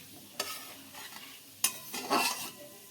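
Ingredients for basanti pulao sizzle softly in a hot pan, with two sharp clinks of a spatula and scraping stirring strokes over a quiet, steady frying hiss, close up.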